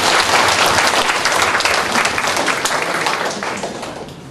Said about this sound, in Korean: 여기 안 계시지만 박수 해주셔야 돼요